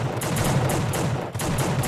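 Gunfire in The Suffering, a fast run of sharp shots in a steady rhythm, about eight reports fired close and loud with a brief gap near the end.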